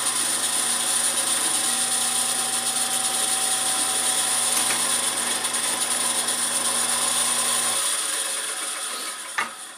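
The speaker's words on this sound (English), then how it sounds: "you just start the drill" A drill press bores holes in metal for a piece of armor, its motor a steady, even whine and hum that runs continuously, then winds down near the end, with a brief click just after.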